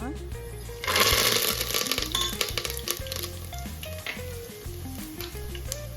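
Hot oil sizzles and crackles steadily in a pan as tempering spices go in for vegetable pulao, with a stirring clatter and a person talking over the frying.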